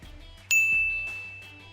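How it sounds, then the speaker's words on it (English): A single bright bell ding used as a sound effect, struck once with a sharp attack and a clear ringing tone that slowly fades under a faint background. "Give yourself a ding, Muse."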